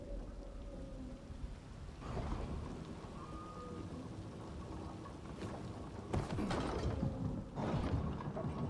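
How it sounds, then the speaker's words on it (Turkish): Rain in the video game Dying Light 2, a steady dense hiss with rumbling, mechanical creaks and swells that grow louder in bursts toward the end, no speech. "Yağmur yağıyor."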